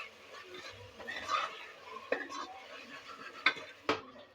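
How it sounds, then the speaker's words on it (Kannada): Tomatoes fry in a pan for dal fry, with a spoon stirring in soft scrapes and a few sharp clinks over a low sizzle, fairly quiet. "ಟೊಮೊಟೊ ಸೇರಿಸಿದ ನಂತರ ಮತ್ತೆ ಟೊಮೊಟೊ ಚೆನ್ನಾಗಿ ಫ್ರೈ ಆಗಬೇಕು"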